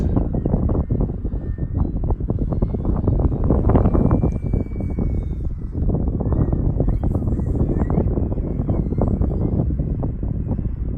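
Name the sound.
FMS RC model plane engine hovering in wind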